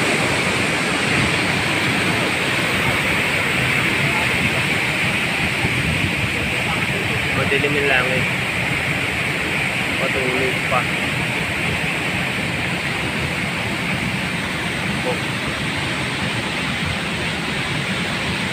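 Strong rushing river water during Typhoon Karding in Bataan, a steady loud broadband roar filling the whole clip, with a voice speaking briefly over it.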